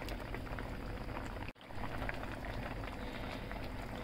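Chicken curry with spinach bubbles steadily under a lid in a pot, a dense continuous simmer with a brief dropout partway through, otherwise even and close.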